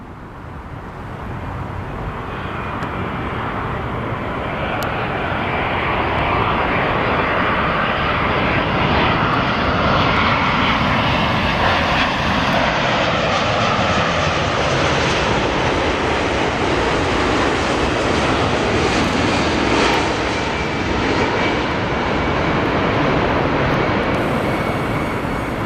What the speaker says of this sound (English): 787-9 coming in from Honolulu.